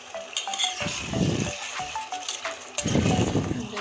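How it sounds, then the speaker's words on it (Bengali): Chicken curry being stir-fried in a pan, with metal spoon scraping and clattering against the pot in two busy bursts over a low sizzle, up close. "আমি এখন সুন্দর করে কষিয়ে নিব"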